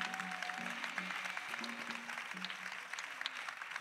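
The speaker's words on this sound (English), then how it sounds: "Let us clap for them." A church congregation claps for children, quiet, scattered applause heard at a distance under sustained tones of singing or humming voices.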